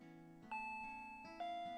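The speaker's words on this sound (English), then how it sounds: "The doorbell rang." A doorbell chime in the Higurashi: When They Cry visual novel, two soft electronic ding tones a moment apart over a quiet sustained musical background, faint and with no speech.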